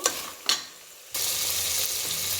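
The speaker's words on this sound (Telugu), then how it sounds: "ఇంకా ఇది ఫ్రై అవ్వాలండి" Spice paste fries in hot oil, with a couple of brief clatters and then a steady, close sizzle that takes over and holds to the end.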